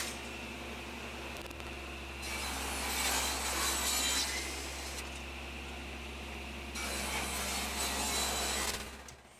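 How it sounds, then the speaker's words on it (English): A table saw cuts thin wood strips in two sustained passes. Each pass makes a loud, raspy cutting roar over the steady motor hum, and no one talks. "when cutting thin strips on a table saw, they tend to get caught between the fence and the blade"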